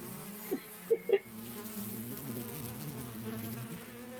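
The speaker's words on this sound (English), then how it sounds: "I control bees now." A swarm of bees drones in a video game, a continuous low buzzing hum throughout, with a few short bright blips near the start.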